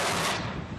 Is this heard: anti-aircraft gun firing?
yes